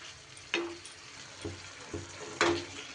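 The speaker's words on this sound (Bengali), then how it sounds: "এবার মশলাটা দিয়ে খুব ভালো করে কষিয়ে নিতে হবে" Spice paste for paneer thecha sautéing over low heat, with a soft steady sizzle broken by a few sharp spatula scrapes and taps against the pan, fairly quiet and with no talking.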